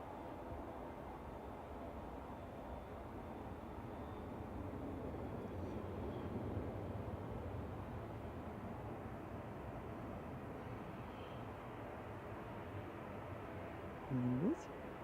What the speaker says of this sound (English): I can hear a noisy prop.